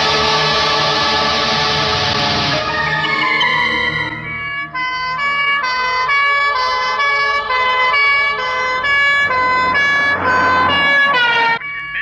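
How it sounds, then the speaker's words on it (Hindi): A loud ambulance siren wails close by, its tone rising and falling in a repeating cycle, with a vehicle rumble underneath. "एम्बुलेंस की आवाज यहां भी आ रही है, वो कहीं नजदीक है"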